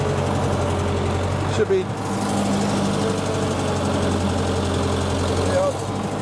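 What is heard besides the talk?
Wisconsin engine running on manlift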